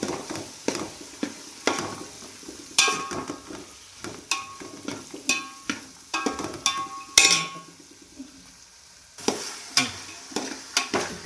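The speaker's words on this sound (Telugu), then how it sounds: "ఈ మసాలాలో దీన్ని బాగా ఫ్రై చేసుకుందామండి." Potatoes and green peas fry in an onion masala for aloo matar pulav. A spoon scrapes and clinks rhythmically against the pan over a soft, continuous sizzle.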